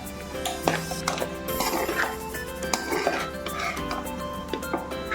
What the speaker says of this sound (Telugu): మొత్తం గోంగూర అంతా ఈవెన్గా కలిసేలా కలిపేసుకోండి